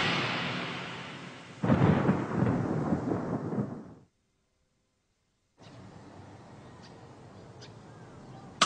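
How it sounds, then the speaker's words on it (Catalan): A rumble of thunder rolls over steady rain, then drops to silence before a softer patter of rain returns. "Mireu, ha començat a ploure."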